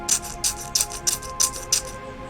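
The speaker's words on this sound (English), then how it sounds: "That's the sound of me slow clapping" Slow hand clapping, six evenly spaced sharp claps about a third of a second apart, fairly close and alone over a faint background hum.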